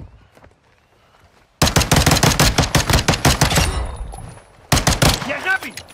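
Bursts of rapid automatic gunfire in a shooter video game, loud and close, with a long volley, a pause, then another sharp burst, mixed with game effects.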